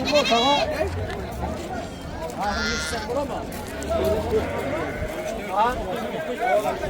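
Goats and kids bleat repeatedly at a busy livestock market, the cries rising over constant nearby crowd chatter and bargaining voices.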